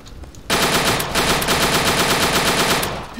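Sustained machine gun fire from the World War II dinosaur shooter Dino D-Day, loud and close, starting abruptly after a brief quiet moment and running as a dense, unbroken rattle of rapid shots to the end.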